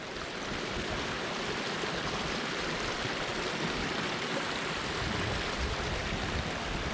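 A river running high after rain rushes in a steady, dense roar of water, close and unbroken, with no voices.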